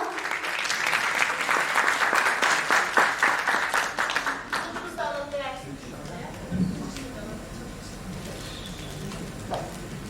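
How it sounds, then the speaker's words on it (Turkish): Audience applause at an award and flower presentation during a concert, a dense burst of clapping that thins out midway, after which a voice speaks over quieter room sound. "Bizim de Mustafa Sulu hocamıza bir çiçek takdimiz ve sunucumuza var alkışlarla"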